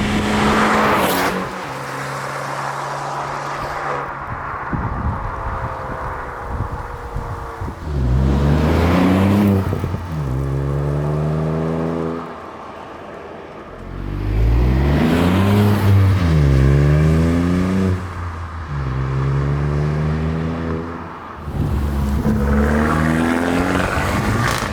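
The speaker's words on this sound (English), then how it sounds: "for this comparison, I feel it's only fair that we use the stock sound of the Fiesta ST" A stock-exhaust Ford Fiesta ST MK8 revving repeatedly, each rev climbing sharply in pitch then dropping back to idle in loud, close bursts, with short pauses between.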